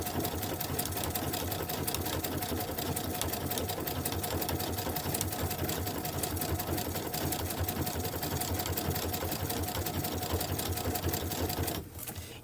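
A sewing machine runs continuously for about twelve seconds, stitching decorative patterns onto a quilt binding with a fast, even mechanical whir and rapid needle ticking, then stopping abruptly near the end.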